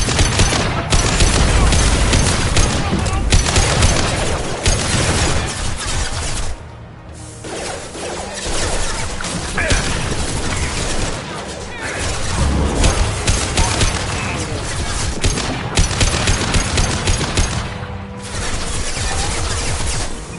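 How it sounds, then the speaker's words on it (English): Sustained gunfire in the sci-fi shooter game Mass Effect 2, with loud rapid bursts, heavy impacts and crashes over about twenty seconds, briefly dropping off midway before the firefight resumes. "Firing a high-impact shot."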